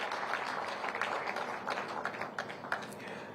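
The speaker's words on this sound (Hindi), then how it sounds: "और तालियों से आप भी इस खास मौके पर अपना साथ दीजिएगा।" An audience applauds at a foundation-stone ceremony for new buildings in Fatehabad, part of a chief minister's project inauguration. The clapping is a steady, moderately distant wash with scattered sharper claps standing out, and no speech.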